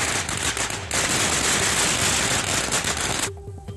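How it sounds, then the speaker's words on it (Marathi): Firecrackers set off by villagers in Shikari Shinganapur, Man taluka, during a celebration: a dense, continuous crackling barrage of rapid pops, loud and close, running for about three seconds before cutting off abruptly. "मान तालुक्यातल्या शिकारी शिंगणापूर इथल्या ग्रामस्थांनी फटाके वाजवून आनंद साजरा केला"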